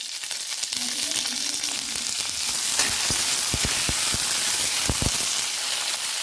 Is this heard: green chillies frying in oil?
yes